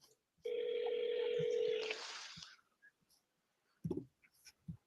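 An incoming call tone from a phone app rings loudly and steadily for about two seconds and then fades, followed by quiet handling noises and a brief soft voice.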